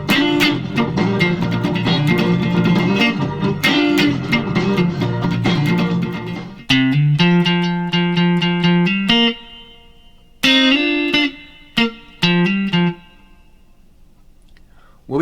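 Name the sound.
electric guitar main riff of a song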